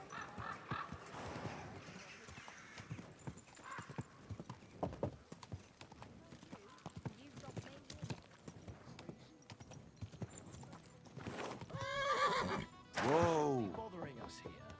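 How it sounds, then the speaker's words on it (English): Horse hooves clop steadily on the ground in Kingdom Come Deliverance 2, with a horse whinnying loudly near the end, mixed with background voices and speech. "Easy, good horse."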